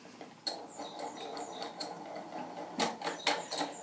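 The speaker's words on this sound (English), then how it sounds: "it goes around the wards and throws the bolt in a sort of snapping action, because the spring is really quite strong in this one" A warded mortice lock clamped in a vice, its strongly sprung bolt thrown with a series of sharp metallic clicks and snaps, quiet in places and louder bursts near the end.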